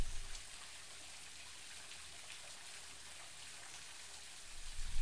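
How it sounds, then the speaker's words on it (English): Water cascading at Buderim Falls in a rainforest, a steady broadband rush and patter with no voices, holding even throughout and swelling slightly at the very end. "The sound of the falls echoing through the rainforest."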